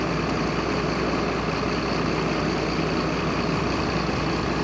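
A bus running at Stratford upon Avon, a steady loud diesel engine rumble close by that holds evenly throughout, with no talking.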